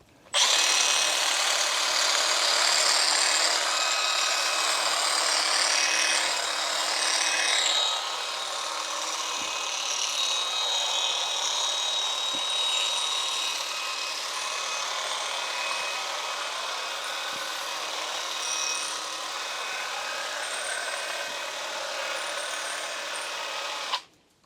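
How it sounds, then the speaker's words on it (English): A Milwaukee M12 brushless 8-inch cordless hedge trimmer cuts through a very woody azalea, giving a loud, steady high-pitched buzzing whine that holds for about twenty-four seconds with slight dips as the blades bite into branches. "That is the Milwaukee M12 8-inch hedge trimmer kit."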